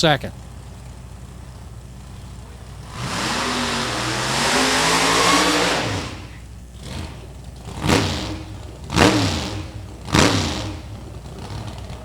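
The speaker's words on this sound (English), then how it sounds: "we will be hot on the track with Kelly Friel's Key and Goddard Wagner II" Supercharged Comet drag racing car on the track at a hot rod reunion, its engine roaring in a long loud rising rev, then several sharp bursts of throttle, with a crowd murmur in the background.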